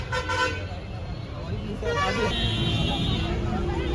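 Busy street traffic in Kurud during a crowded religious gathering, with a steady roadway rumble, engines and repeated car horn toots, while a person talks over the noise nearby.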